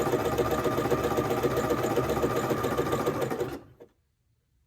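A sewing machine runs a lightning bolt stitch along a knit cardigan seam, 3/8 inch (1 cm) from the edge, a steady close whirring for about three and a half seconds before it stops dead into silence.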